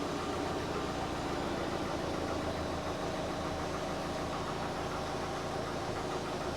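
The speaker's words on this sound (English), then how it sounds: "As a final check, I always like to start the car up." A 2009 VW Beetle 1.4 petrol engine runs at idle after a fuel filter change, a steady, close, rough rumble with a faint rhythmic knock and no voices.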